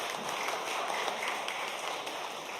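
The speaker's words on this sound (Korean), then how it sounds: "우리 박수로 환영하죠." A Korean church congregation at Sunday worship claps to welcome a visitor, a quick dense patter of many hands sustained evenly and fairly soft across the room.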